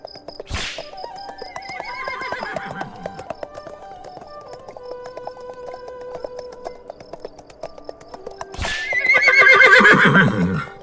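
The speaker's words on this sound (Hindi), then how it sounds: "तभी सामने से घोड़े पर सवार भैरव सिंह आता दिखाई देता है।" A cartoon horse whinnies loudly as a rider arrives on horseback, a long shrill neigh near the end, with two sharp crack-like hits and faint animal calls and ambient tones in between.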